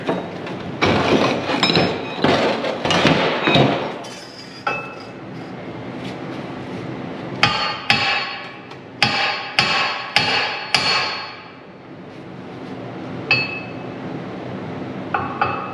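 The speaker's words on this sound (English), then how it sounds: "There's a hammer." A hammer strikes metal repeatedly, sharp ringing blows in uneven clusters, loud and close, with brief pauses between runs of hits.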